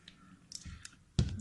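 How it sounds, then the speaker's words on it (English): A 3x3 Rubik's cube being scrambled by hand, giving soft plastic clicks and rattles in quick bursts, with a sharper cluster of turns near the end, close and fairly quiet. "first is scramble it. Scramble well, shuffle it well."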